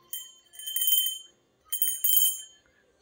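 Two bright, ringing notification bell chimes sound in quick succession, each a short shimmering burst, clear and close with silence between.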